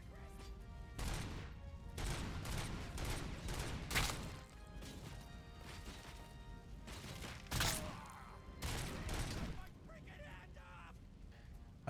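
Gunshots in a video game duel, a series of sharp loud bangs spaced a second or two apart with clusters near the middle and end, heard under steady talking.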